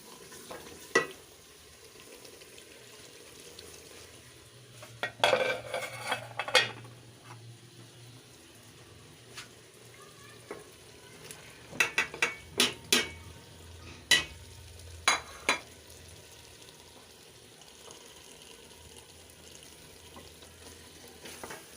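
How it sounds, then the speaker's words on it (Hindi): Chicken frying in a pan of spiced masala for spinach chicken, with a quiet low sizzle running throughout and scattered scrapes and clinks of a spoon stirring against the pot, bunched between about five and sixteen seconds. "दस मिनट तक इसकी भुनाई करते रहेंगे।"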